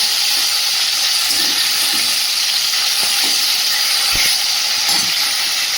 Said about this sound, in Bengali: মাছটা খুব সুন্দর করে ভেজে নিয়েছি লাল লাল করে